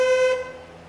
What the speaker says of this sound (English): All right, well, we got horn.